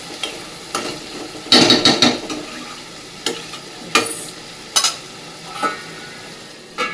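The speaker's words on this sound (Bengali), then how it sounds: "হালকা নিচে এইভাবে মাছটা নাড়তে হবে" Fish gently stirred in a cooking pan, producing scattered scraping and clinking strokes with soft sizzling between them, close and moderately loud, with no talking.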